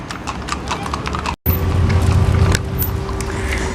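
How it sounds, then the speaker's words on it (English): Horses clop down a street with traffic, their hooves striking the pavement in a steady, uneven rhythm at moderate distance, with a low engine drone running beneath. "Tibs, there's some horses. You see the horses? See them coming down the street?"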